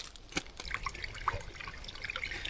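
Fresh water from a low-flowing spring head trickling and dripping into a container, faint and close, with small splashes over a quiet outdoor background.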